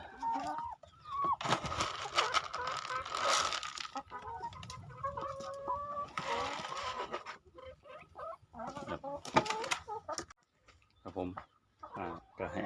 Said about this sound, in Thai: ครับไก่มันก็จะมากินแบบนี้ฮะ